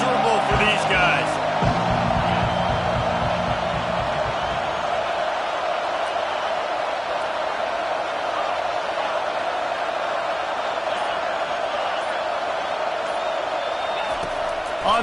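Stadium crowd at a college football game makes a broad, constant roar that swells slightly early on and then holds steady without letting up.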